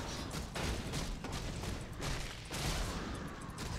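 Mortar volleys in a real-time strategy game, heard as a dense, continuous roar of overlapping blasts and rumbling fire that swells and dips in waves for several seconds with no pauses.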